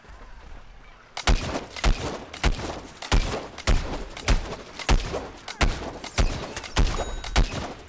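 Gunfire in Plants vs. Zombies Garden Warfare rings out in rapid, evenly spaced bursts after a quiet opening second, punchy and close, continuing steadily to the end.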